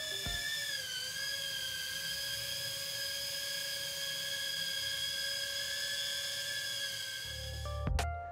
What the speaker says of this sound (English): the Pavo Femto does make a little bit more noise.